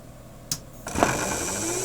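Car alternator driven as a home-built brushless electric motor spins up with a sharp click and then a steady high-pitched electrical whine and hum that continues to the end, fairly close.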